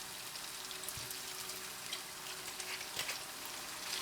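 Cooking wine splashed into a hot pan with a miso mushroom starter sauce, giving a steady soft sizzle and bubbling crackle, fairly faint and continuous with no talk.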